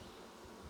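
Honey bees buzzing inside a nuc hive, a soft steady hum that stays faint and constant throughout.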